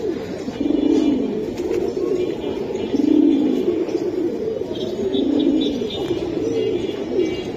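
Bezi pigeons coo in repeated soft, throaty rolls that recur every second or two, fairly close and steady, with faint chirps and background noise around them.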